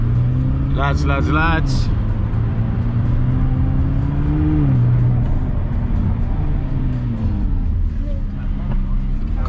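McLaren sports car driven through central London near Trafalgar Square, its engine note rising and dropping through downshifts as a steady loud drone, with sharp revving blips early on and someone talking over it.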